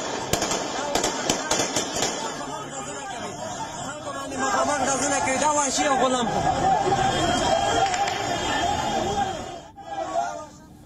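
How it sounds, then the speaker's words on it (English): Gunfire opened on a crowd in Khost, Afghanistan, when locals tried to raise the national flag: sharp cracking bursts early on, then a dense, loud babble of shouting voices that runs almost to the end. "In response, the Taliban opened fire."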